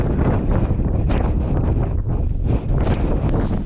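Strong wind buffets a tent at a wild camp on Ros Castle, a constant roaring rush with gusty swells as fabric is pressed flat, loud and close throughout with no talk.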